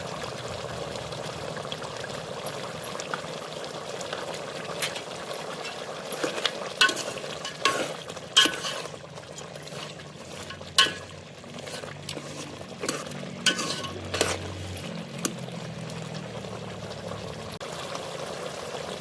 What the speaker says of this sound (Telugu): అల్లం వెల్లిపాయ పేస్ట్ వేసి